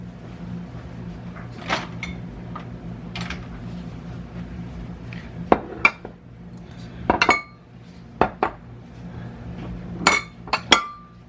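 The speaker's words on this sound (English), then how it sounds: "Let me just get all my bowls over here." Ceramic bowls, some still a little wet, clink and clatter as they are gathered together in a home kitchen, with sharp irregular knocks that grow more frequent toward the end over a low room hum.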